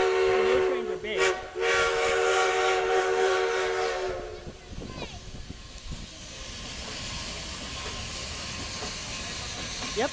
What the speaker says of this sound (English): Those trains are big.